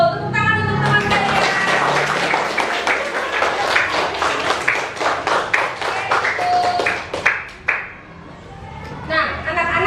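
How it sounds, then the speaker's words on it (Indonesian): A classroom of children claps for a classmate, a busy burst of close clapping with some chatter, thinning out toward the end before a few scattered claps return. "Tepuk tangan untuk teman saya."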